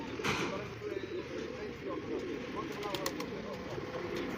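Village pigeons coo in the evening outdoors, a soft steady cooing from several birds that continues under people talking nearby.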